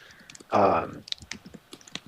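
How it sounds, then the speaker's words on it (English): Computer keyboard typing during a group voice call, a burst of quick clacking keystrokes up close with scattered lighter clicks around it. "someone is typing. Please mute yourself."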